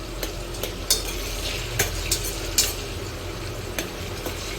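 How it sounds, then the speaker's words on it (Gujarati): Tomatoes frying in oil in a pan, a soft continuous sizzle broken by several sharp scrapes and clinks of a spoon stirring, fairly quiet and close with no talking. "એને થોડા પોચા થાય ત્યાં સુધી આપણે થોડા એને શેકી લઈશું તેલમાં"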